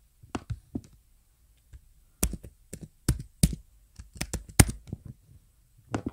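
Login details are typed on a computer keyboard in uneven clusters of crisp, close clicks and taps with short pauses between bursts.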